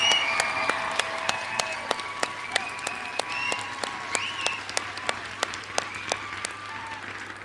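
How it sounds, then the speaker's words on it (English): A graduation audience in a hall applauds steadily, a dense wash of clapping with sharp individual claps standing out, faint scattered voices and cheers underneath. "give your loved ones a cheer and round of applause"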